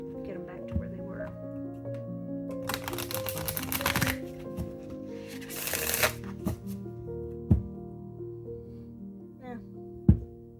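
A deck of tarot-style oracle cards being shuffled by hand in riffling bursts that rise and fall across the stretch, with a few sharp taps and card snaps, close and moderately loud over a low background hum.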